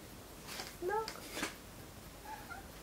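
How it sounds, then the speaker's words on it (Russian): A male cat yowls in spring, a few short wavering meows close by, faint under a steady background hiss. "И мартовский кот, как говорится, орет."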